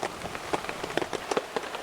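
Steady rain on a dark rainy day, close drops pattering irregularly on a surface, with no voices.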